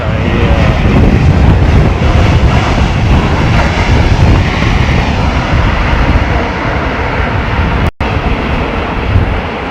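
Jet airliner landing in strong wind at London Heathrow Airport, a loud, steady roar of aircraft engines mixed with gusting wind buffeting the microphone throughout, dipping briefly near the end.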